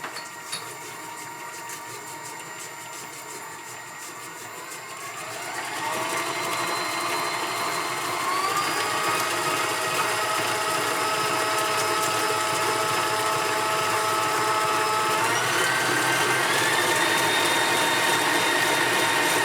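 Electric mixer creaming butter with an egg and vanilla into oatmeal cookie dough, a steady whirring motor that starts up partway, jumps to a higher speed and holds a continuous close, loud drone with no talking.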